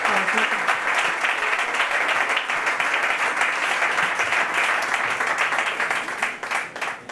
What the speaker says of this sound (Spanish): os pido un aplauso para ella y todo el gobierno